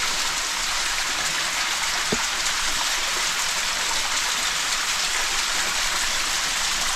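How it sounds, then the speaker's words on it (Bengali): A waterfall in the Sreemangal hills pours in a steady, dense rush that holds at an even level throughout, with no voices heard. "এই যে একটা ঝর্ণা"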